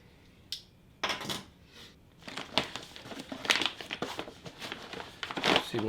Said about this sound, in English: Get a knife out and cut that baby open.